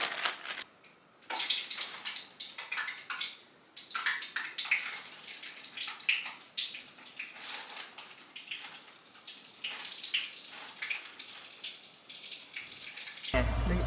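Battered chicken fries in hot grease with a steady, dense sizzle and crackle of bubbling oil that carries on close up for the whole stretch.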